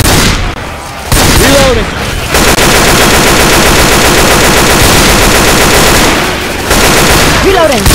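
Rapid video game gunfire rattles almost continuously in dense bursts, loud and close, with short gaps where the shooting drops away, while a player's voice talks over the action.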